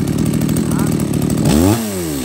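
An Echo 3900 chainsaw with a 37.7cc engine fires after a light pull and runs loudly nearby, its buzzing engine rising sharply in pitch as it revs, while someone talks over it.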